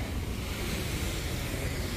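Water pouring over the big fountain at Point State Park in Pittsburgh, a loud, continuous rushing wash with no breaks, heard outdoors with some wind buffeting the microphone.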